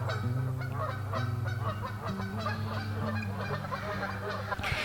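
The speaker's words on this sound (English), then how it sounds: "I can hear that there's a flock of geese landed on the pond across the street" A flock of geese on a pond honks over one another in a noisy, continuous chorus, fairly close, with overlapping calls and no pauses.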